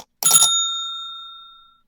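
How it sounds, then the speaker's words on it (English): A bright bell ding for a notification sounds once, a sharp metallic strike followed by a clear ringing tone that fades out over about a second and a half, alone with no talk. "Hit that notification bell so you be notified whenever we drop."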